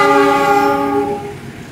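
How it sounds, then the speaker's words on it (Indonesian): A freight train from Lemah Abang, bound for Jakarta Tanjung Priuk with empty flat wagons, blasts a loud horn that fades out after about a second, leaving low rumble at a busy Jakarta station. "Ini sepertinya kereta api barang dari Lemah Abang,"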